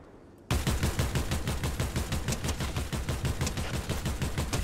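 Rapid automatic gunfire in a shooter game, a dense, loud burst of evenly spaced shots that starts abruptly after a brief quiet moment and rattles on without pause.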